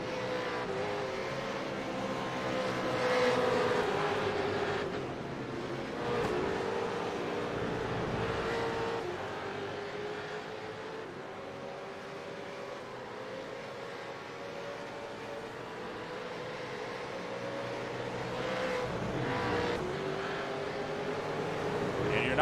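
V8 Supercars race at Michelin Raceway Road Atlanta, with a continuous engine roar rising and falling as cars pass, steady and moderately distant, while commentators talk over it.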